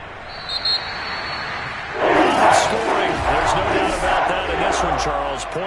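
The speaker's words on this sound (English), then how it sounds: "And the home crowd applauding." A home crowd in a Madden football video game roars and cheers, a loud sustained wash of noise that swells after a quieter opening and carries on steadily to the end.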